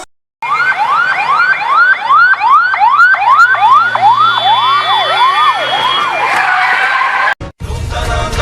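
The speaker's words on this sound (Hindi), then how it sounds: "एम्बुलेंस।" An ambulance siren wails loud and close in repeated rising-falling sweeps, running for several seconds before cutting off abruptly, followed by brief street noise.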